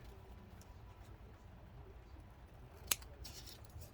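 Scissors make a single sharp snip close by while cutting a Dollar Tree puzzle for a craft project, against a quiet, low hum.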